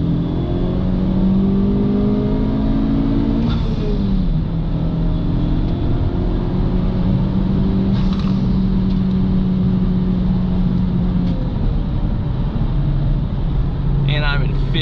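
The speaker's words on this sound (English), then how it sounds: "You can hear that turbo spool." A 2019 Honda Civic Type R accelerating in fifth gear, its turbo spooling under a steady loud engine drone with rising whine tones, heard from inside the car while a person talks.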